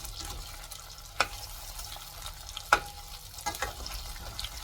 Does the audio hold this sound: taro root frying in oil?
yes